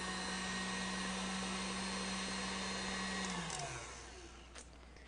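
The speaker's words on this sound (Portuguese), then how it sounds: "Então, vou ligar na velocidade máxima," An electric stand mixer runs at maximum speed, beating cake batter with a loud, steady motor whine, then spins down and fades near the end.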